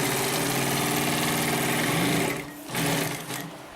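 A Consew P1541S-CC industrial sewing machine stitches medium-grade vinyl in a loud, fast, even mechanical whir that runs continuously, then briefly slows and stops before starting again.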